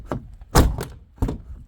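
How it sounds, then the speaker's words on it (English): A Mercedes CLK car door is closed, giving a few dull close thunks with a heavier main slam in the middle, heard near and without talking. "Let me try to close the door."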